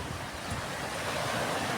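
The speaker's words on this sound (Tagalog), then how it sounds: "malakas yung alon" Strong ocean waves breaking on a Boracay beach make a continuous, steady roar of surf, with gusting wind buffeting the microphone throughout.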